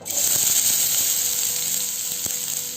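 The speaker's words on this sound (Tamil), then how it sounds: "எண்ணெய் சூடானதும் கட் பண்ணி வச்சுருந்த ஆனியன் சேர்த்திக்கிறேன்." Onions sizzle loudly in hot oil, a dense continuous crackle with a few brief pops.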